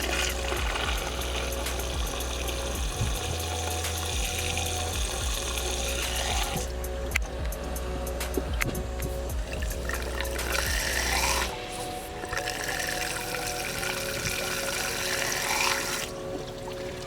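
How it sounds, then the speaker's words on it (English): Water from a hose pipe flushes through a car's cooling system during a coolant change on a Ford ST, a steady hiss and splash with a low hum that stops near the midpoint, followed by clicky dribbling. "I'll just wait now until I can hear the water stop flushing out."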